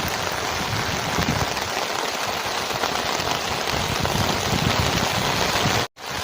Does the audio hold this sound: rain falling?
yes